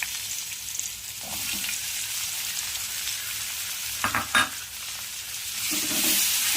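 Sliced onion sizzles in hot oil with lentils, a steady crackling fry under an occasional scrape of a spoon stirring the pan.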